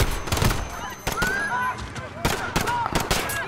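Gunfire in Call of Duty: Modern Warfare (2019), a handful of sharp, loud shots spaced irregularly amid chaotic game noise with whining tones and distant commotion.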